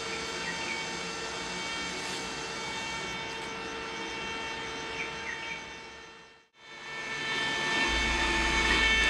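A Fisher Gold Bug II metal detector holds a steady, hum-like threshold tone against a hissy outdoor background. It dips out briefly near the end, then comes back.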